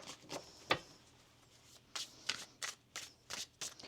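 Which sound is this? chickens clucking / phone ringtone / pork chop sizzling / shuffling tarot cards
shuffling tarot cards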